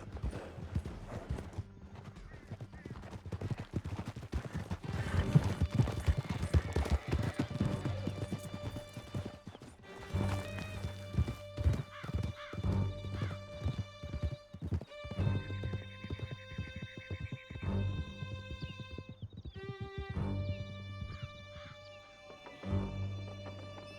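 Horses gallop in Red Dead Redemption 2, a steady, fast clip-clop of hooves with an occasional whinny, running continuously under a layer of music.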